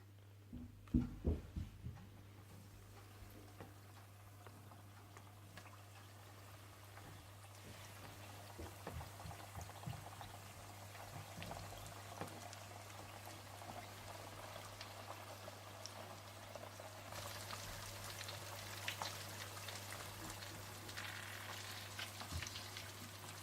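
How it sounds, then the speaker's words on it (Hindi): Coated chicken wings deep fry in hot oil over medium heat, making a soft continuous bubbling sizzle. A few sharp crackles stand out near the start, and the frying grows a little brighter toward the end. "सारे चिकन विंग्स को कोट करने के बाद आप तेल गरम कर लीजिएगा और इन्हें डीप फ्राई कर लीजिएगा।"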